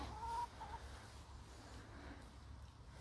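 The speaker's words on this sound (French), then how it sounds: "on dirait que les poules sont contentes" Hens clucking in their enclosure, a couple of faint short clucks at the start over a low steady outdoor background.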